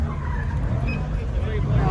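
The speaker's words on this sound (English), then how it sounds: "There's somebody doing donuts back there." At a car meet, a car doing donuts squeals and skids its tires nearby, the rough screech running continuously over engine noise while people talk close by.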